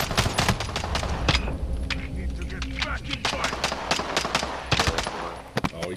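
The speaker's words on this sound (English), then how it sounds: "I am under fire." Rapid bursts of automatic gunfire in Call of Duty on the Verdansk map, loud and close, with dense repeated shots, a few brief gaps and single cracks near the end.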